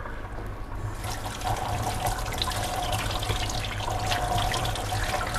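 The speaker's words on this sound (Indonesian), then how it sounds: "Oke, kita bilas dulu sama air ya." Tap water runs steadily into a kitchen sink while seafood is rinsed before peeling for a spaghetti marinara, a continuous splashing flow that grows slightly louder after the first second.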